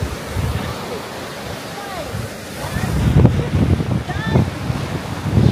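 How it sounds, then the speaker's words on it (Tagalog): Strong sea waves break and wash along Broadstairs beach in Kent, a steady roar of surf with gusting wind on the microphone, swelling louder in the second half while someone talks over it. "lakas ng alon no"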